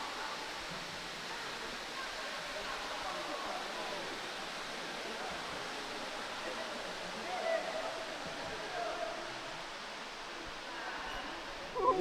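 Foster Falls on Cumberland Mountain sends up a steady broadband roar of falling water, constant and moderately loud throughout, with faint voices in the background.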